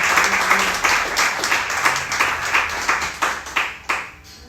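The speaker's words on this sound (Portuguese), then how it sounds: "Aplauda ao Senhor com o seu melhor nessa noite." A church congregation claps during an evening service, loud and rhythmic with distinct periodic bursts of hand claps that thin out toward the end.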